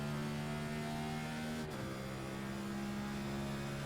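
A NASCAR race car from the iRacing video game cruising on a warm-up lap, a steady tonal engine drone that shifts pitch briefly partway through, faint and continuous.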